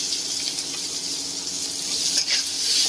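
Chopped onion hits hot oil already holding whole garam masala and bay leaf, a loud, close, steady sizzle with a brief surge near the end, and no speech.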